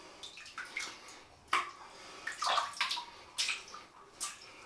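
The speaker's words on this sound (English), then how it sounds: "So we'll get a bit of water in the knot." Water from a tap splashes intermittently as a shaving brush knot is wetted, a series of close, gurgling bursts separated by short pauses.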